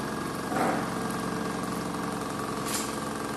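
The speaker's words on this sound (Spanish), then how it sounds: "el motor disminuye su velocidad, empieza a vibrar y sigue andando" Electric motor running under load after losing a phase, a steady dense hum with a low vibrating drone that swells briefly, continuous and close, with no speech.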